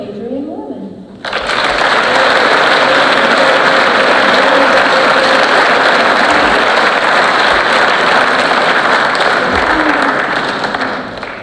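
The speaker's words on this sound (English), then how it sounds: "please applaud with me Adrian Mormon" A packed audience at a senior awards ceremony breaks into loud, sustained applause after a short moment of quiet, the dense clapping holding steady for several seconds before easing off slightly at the end.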